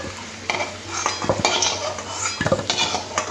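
A metal spatula scrapes and clinks against a pan while deep-fried potatoes are lifted out of hot oil, giving a close run of irregular sharp taps and scrapes over a faint sizzle.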